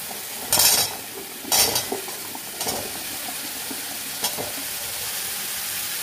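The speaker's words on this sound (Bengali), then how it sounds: "এই অবস্থায় আমি এই গাঠি কচুগুলো দিয়ে দেবো" Taro pieces dropped into tomato paste in a frying pan, giving a few short bursts of sizzling and stirring scrapes over a steady low frying hiss, with no voices.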